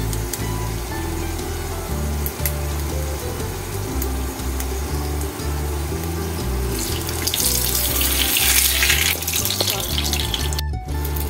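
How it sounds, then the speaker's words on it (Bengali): A Mughlai egg paratha fries in a generous amount of hot oil in a frying pan, producing a continuous loud hissing sizzle over a low, steady tonal background. "এখন আমি মোগলাইটা এখানেই ভেজে নিচ্ছি।"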